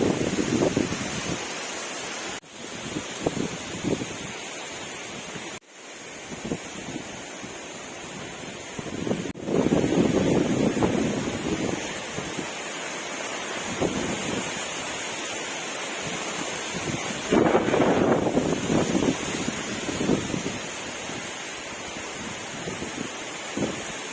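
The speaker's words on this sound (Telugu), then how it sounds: "తుఫాన్కి అయితే గాలి అయితే గట్టిగా వేస్తున్నాయి" Strong cyclone wind in Konaseema buffets the microphone in heavy, surging gusts, rising and falling over a constant roar, with no voices.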